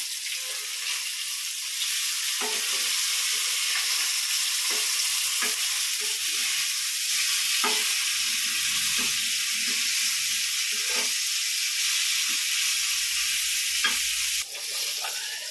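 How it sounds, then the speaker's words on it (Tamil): Steady broadband hiss of a pot of shrimp biryani with parboiled rice bubbling and sizzling on high heat, with occasional soft clinks and stirring scrapes, close and continuous with no talk. "கொதிக்குதுப்பா பிரியாணி இறா பிரியாணி கொதிக்குது"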